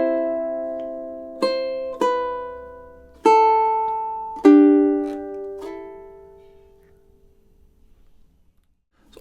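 Ukulele fingerpicked melody played alone and close, a few bright plucked notes and chord tones each ringing out and decaying, the last one fading slowly into silence.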